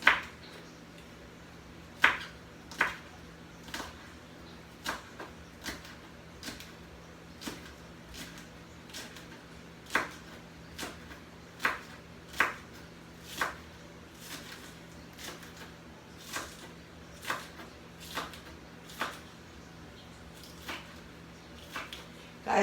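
A knife chops onions and scallions into small pieces on a cutting board, giving a steady series of sharp, evenly spaced taps near the mic over a low background hum, with no talking.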